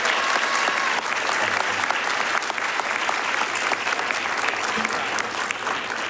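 An audience at a superintendent's awards ceremony applauds an award winner with steady, even clapping that fills the whole stretch at moderate volume, without speech.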